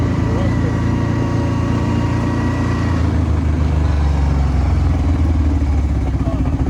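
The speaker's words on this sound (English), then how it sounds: "Yeah, I have an exhaust leak somewhere." A loud idling HEMI Ram 1500 engine with an exhaust leak, a rough, sputtering exhaust rattle, steady and close, pulsing unevenly throughout.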